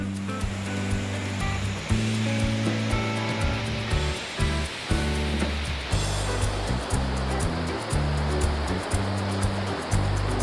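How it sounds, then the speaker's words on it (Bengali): The fast-flowing Balason mountain river near Darjeeling roars continuously, loud and close, heard from a bridge, with a constant turbulent wash and no voices. "এখানকার বালাসন অন্যান্য পাহাড়ি নদীর মতোই বেশ খরস্রোতা"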